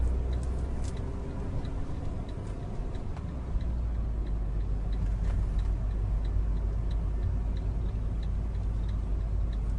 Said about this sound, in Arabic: هذا صوت الرمل على السيارة.